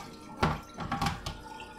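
Rice rinsed in water by hand, producing soft splashes, swishes and drips in a few irregular bursts, close and quiet.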